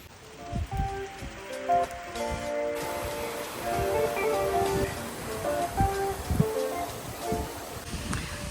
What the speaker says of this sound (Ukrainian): Ми потрапили під дощ.